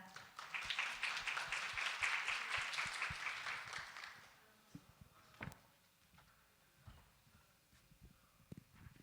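An audience applauds to welcome a speaker at a media forum session, a moderately close round of clapping for about four seconds that fades into a quiet room with a few scattered claps and knocks.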